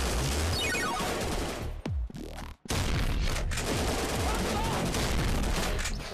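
Shrek fires a shotgun in a meme video game, loud blasts in a dense burst of gunfire that breaks off briefly with a sharp drop near the middle, then resumes just as loud.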